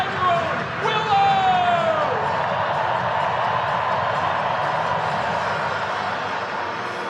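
A capacity stadium crowd of about 44,000 at a St. Louis Cardinals ballpark during a Savannah Bananas exhibition baseball game, a broad sustained roar of cheering with a rising whistle-like tone near the start, steady and distant-sounding throughout.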